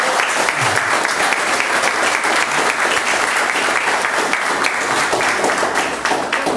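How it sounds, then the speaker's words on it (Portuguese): A church congregation claps together for Jesus, a loud, sustained wall of many hands filling the room evenly and tapering only slightly at the end. "Você pode dar uma salva de palmas para o Senhor Jesus?"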